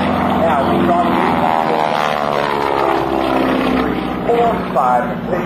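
Aircraft at a military joint services open house airshow, its engine a loud, steady drone with music playing over it.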